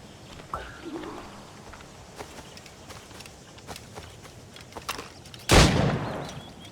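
In Assassin's Creed Rogue, scattered footsteps and soft clicks lead up to one sharp, loud gunshot at targets, which rings out and fades away.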